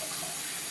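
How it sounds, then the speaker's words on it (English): Sink faucet running steadily while vegetables are rinsed under it, a continuous close hiss of flowing water with no talking. "I'm going over here to the sink. I'm going to rinse these off real good."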